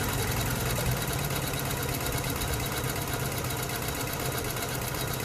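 A 2006 Lexus ES 330 idles with its engine under no load, giving a constant close mechanical hum overlaid with a fast, even rattling vibration that persists without change.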